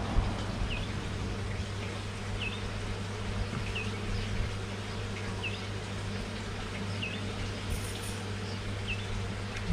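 Honeybees buzz around an opened beehive on Île de La Réunion, a dense steady hum close by with individual bees zipping past now and then, under a constant low background drone.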